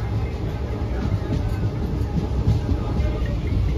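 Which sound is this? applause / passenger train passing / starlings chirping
passenger train passing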